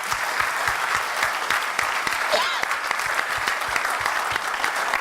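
A crowd at a political council meeting applauds steadily for Gérard Poidja, a dense, even wash of many hands clapping close by and fairly loud, with no voices rising above it.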